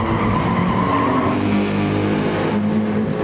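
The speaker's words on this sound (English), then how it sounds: "Nightbreed gets a little bit sideways there." A race car skids sideways in Gran Turismo 7, tyres squealing under a loud, continuous engine drone with several cars nearby, and no talk over it.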